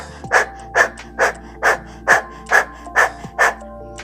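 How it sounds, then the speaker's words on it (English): A person pants quickly from the belly in a breathing exercise, eight sharp, evenly spaced breaths close to the microphone that sound like a puppy panting. "we're panting like this"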